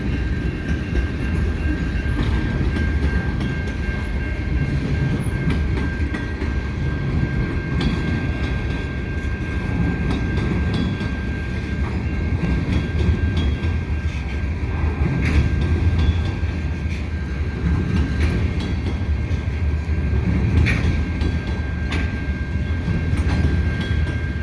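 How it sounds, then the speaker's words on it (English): A CN road freight train hauled by SD70M-2 locomotives rolls past a street crossing on a rainy day, a steady loud rumble of wagons and wheels with a faint high tone throughout, no voices. "This is a road freight headed for Taschereau Yard."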